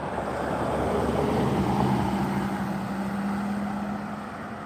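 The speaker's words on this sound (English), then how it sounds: "Oh, here comes a car." A vehicle's engine swells and fades as it rolls past, a steady rumbling whoosh with a rising then falling drone.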